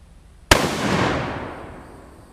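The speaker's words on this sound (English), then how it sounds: "This will be the last round against the metal." A single sharp rifle shot from a 1939 Mosin Nagant in 7.62x54R, fired outdoors in a backyard at a metal target, loud and close, its blast trailing into a long decaying echo.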